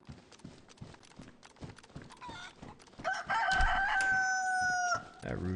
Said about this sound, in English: That rooster is loud as hell.